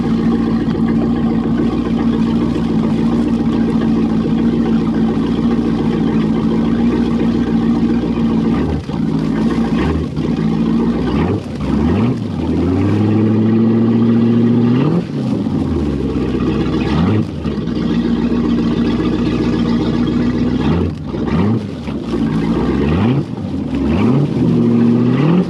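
A 1991 Malibu Competition ski boat with a brand-new Chevy 5.7L 350 engine runs loud and close, a steady idle broken by several throttle blips that rise and fall in pitch, with no talking.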